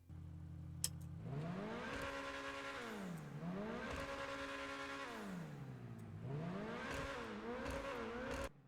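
The Grotti Furia supercar engine in GTA Online revs repeatedly, rising to a high whine and dropping back in three sweeping cycles, loud and close.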